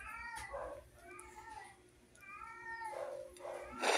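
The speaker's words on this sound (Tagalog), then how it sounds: "Grabe naman yung pusa na yan." A cat meows repeatedly in drawn-out, baby-like cries, several close wails separated by short pauses, over low indoor background noise.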